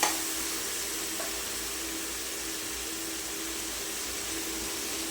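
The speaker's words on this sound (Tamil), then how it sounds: "இப்போ வந்து பச்சை வாசனை போகிற வரைக்கும் நல்லா வந்து வதக்கி விட்டுக்கலாம்." Ginger-garlic paste sautés in a pan for a Tamil potato fry, giving a steady, quiet sizzle with a faint hum underneath and no speech.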